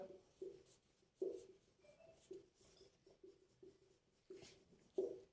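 Pen or chalk writing out a line of text, a series of short scratchy strokes with brief gaps, faint and close in a quiet room.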